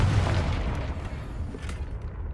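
Confringo blasting spell detonating in Hogwarts Legacy, a deep booming burst that rolls out with a low rumble and fades over a couple of seconds.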